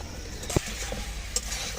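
Crab curry with spices being stir-fried in a pan, a steady soft sizzle with a couple of brief scraping stirs, close and fairly quiet, no voices.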